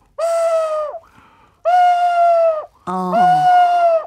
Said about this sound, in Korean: 요런 거 이제 그 부엉이 소리 내는 거고요